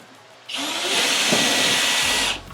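A power drill whirs at high speed for about two seconds, drilling out a bolt hole, starting and stopping abruptly, close up and loud.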